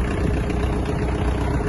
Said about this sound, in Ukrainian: Давайте заведемо даний трактор.